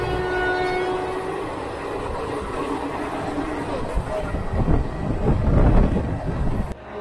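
The Amravati Express passenger train runs through Odisha, with a steady rumble and rattle of the carriages heard up close that swells louder toward the end.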